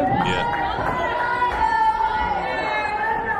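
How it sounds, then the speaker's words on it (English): A loud wrestling crowd roars and cheers in an arena, a dense wall of excited voices and chatter filling the space continuously without pause. "listen to this crowd. The crowd is so loud"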